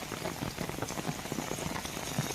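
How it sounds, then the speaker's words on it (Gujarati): Heavy monsoon rain falling since early morning in the Khambhalia area of Dwarka, a dense, steady patter of drops on wet surfaces, fairly quiet and continuous with no voices. "વહેલી સવારથી જ મેઘરાજા મહેરબાન થઈને વરસી રહ્યા છે"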